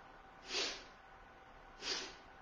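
Two forceful nasal exhales of Kapalabhati yoga breathing, short sharp snorting puffs about 1.3 seconds apart, close and quiet against a faint steady hiss.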